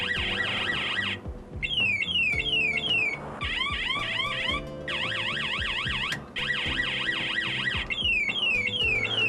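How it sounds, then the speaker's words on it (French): Electronic siren tones from a toy bought at Action, loud and alone, cycling through several wailing and yelping patterns with brief pauses between bursts as different buttons are pressed. "Vous noterez que c'est des sirènes,"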